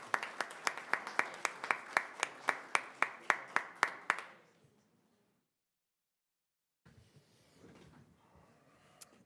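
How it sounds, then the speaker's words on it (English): Applause during a proclamation at a Radford city council session, a run of sharp, evenly paced claps for about four seconds, then quiet, then faint room shuffling. "One more round of applause."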